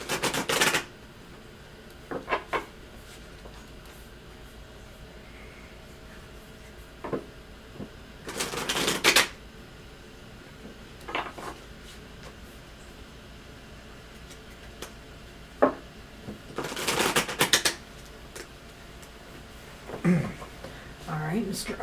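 Intermittent bursts of tarot card shuffling, riffles and rustles in a few separate rounds, with quiet gaps and faint background noise between.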